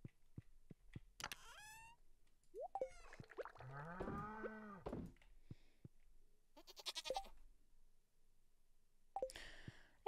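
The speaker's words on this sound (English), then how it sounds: "Milk all of our lovely cows." Cows moo and bleat in a barn in the Stardew Valley video game, with several separate drawn-out calls spread across quiet gaps and a few soft clicks.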